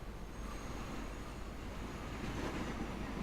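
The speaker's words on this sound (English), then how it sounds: "Let's go and watch the train go by a bit." A train in the Transport Fever game, on a UK map, rolls past as a steady, even rumble with a faint hiss. It sounds mid-distance and continuous, with no talk.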